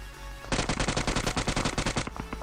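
Automatic weapon fire in the PUBG battle royale game, a rapid burst of about fifteen loud, evenly spaced shots lasting under two seconds, heard close with no talk.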